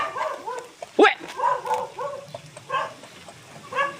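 Dogs at a house bark and yip in a string of close, loud barks with whimpery notes, one sharp bark standing out, while a man calls out over them.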